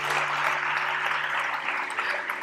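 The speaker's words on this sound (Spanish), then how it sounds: "Pido un aplauso para Laura Baena Fernández" An audience at a panel session on childhood and education applauds Laura Baena Fernández. The clapping is even and continuous, moderately loud, with a faint steady hum underneath.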